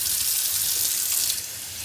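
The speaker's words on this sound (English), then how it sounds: "Let's add water." Tap water runs steadily into a soup pot while making Filipino sinigang, a continuous close hiss and splash that softens slightly near the end, with no talking.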